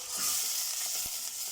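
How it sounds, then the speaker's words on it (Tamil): Chopped onion frying in a pan for a chicken stew, a steady hiss of sizzling oil with faint scrapes of stirring and one soft knock near the end. "அனியன் இந்த அளவுக்கு வதங்கணும்"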